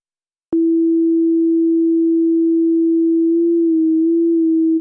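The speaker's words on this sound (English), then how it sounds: "please give me a sine wave. All I want is a sine wave." A pure, steady sine tone from a Massive X software synth holds one low-mid pitch for about four seconds, loud and clean, with a slight wobble near the end before cutting off.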